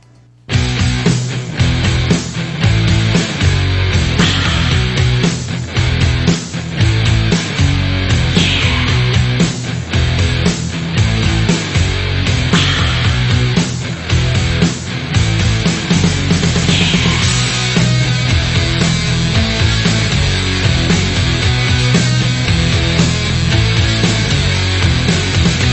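A song plays loud and dense, a grungy punk and new wave track with driving drums, distorted guitars and vocals running continuously throughout.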